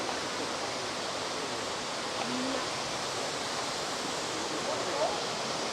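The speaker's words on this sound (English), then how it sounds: "You've got these beautiful waterfalls there in a little picnic area." Roadside waterfall at Bijoux Falls in British Columbia, a steady broadband rush of falling water heard fairly close and unbroken throughout, with no voices over it.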